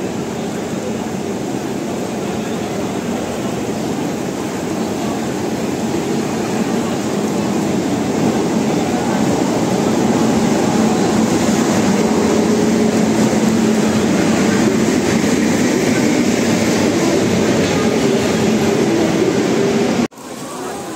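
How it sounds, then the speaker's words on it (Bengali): The Howrah to New Jalpaiguri Shatabdi Express at Howrah station makes a loud, continuous rumbling roar that stays steady for about twenty seconds and then drops slightly at the end, with no talking. "আমরা এখন ট্রেনে উঠে গেছি।"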